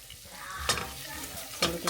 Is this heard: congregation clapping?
no